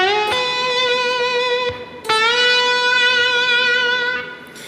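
Two slide guitar licks from a blues solo, played back to back on electric guitar. Sustained ringing notes with plucked attacks and short upward slides sound close and clear, with no talking.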